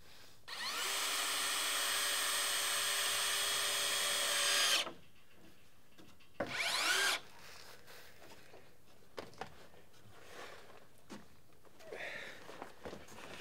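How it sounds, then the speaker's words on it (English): A power drill drives screws into roof timber on a mansard roof build, one loud sustained run of about four seconds and a shorter burst after it, followed by faint knocks and handling noise. "So I'm tacking everything in with screws, just the minimal amount I need just to pull everything together and keep it stable."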